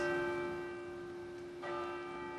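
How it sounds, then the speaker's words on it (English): A bell rings at a city council meeting with a steady, lingering metallic tone, fairly quiet and unbroken, with no voices. "That deserves a bell."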